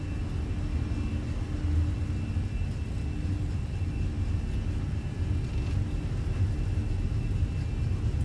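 Airbus airliner engines spool up to takeoff thrust in a flight simulator, giving a steady, loud low-frequency roar and whir with constant rumble throughout and no speech.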